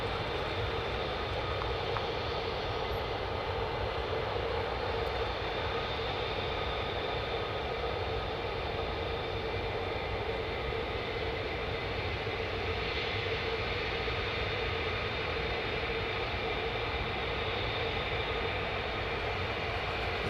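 F-35 fighter jets of the 48th Fighter Wing flying, a steady broadband roar spread across the whole stretch, distant and fairly constant with no clear passes standing out.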